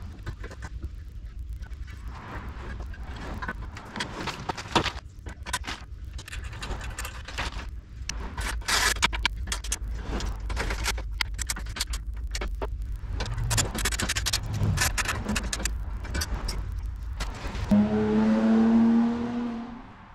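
Old roof rack being pulled off a Y62 Nissan Patrol, with repeated sharp clanks, knocks and scraping of metal over a steady background rumble, ending in a brief louder mechanical whine.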